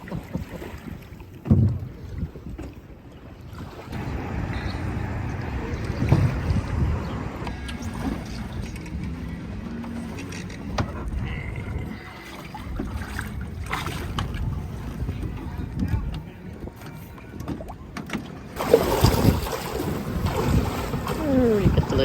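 A sailboat motors from a marina to a mooring ball in America's Cup Harbor, with a steady engine and water rush under gusty wind buffeting the microphone and a louder burst near the end.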